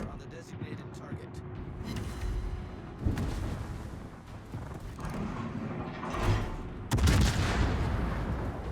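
Naval guns firing in World of Warships, heavy booming salvos and mechanical clanks at intervals over a continuous battle rumble, with a voice speaking over the action.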